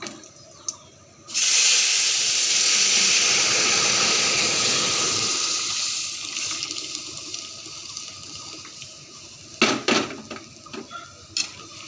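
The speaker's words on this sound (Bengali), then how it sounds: "কড়াই গরম হয়ে গেছে সর্ষে আর শুকনো লঙ্কা দিয়ে দিয়েছি এবার ডালটা দিয়ে দেবো ফোড়ন" Boiled dal poured into a hot karahi of oil tempered with mustard seeds and dried chili: a loud burst of sizzling that starts abruptly, fades over several seconds, then a few utensil clatters.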